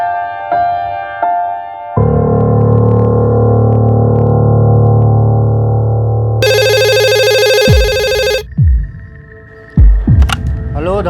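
A telephone rings in a workshop call, with shifting electronic ring tones and beeps that switch pattern several times, loud and close, followed by brief clicks and a voice near the end.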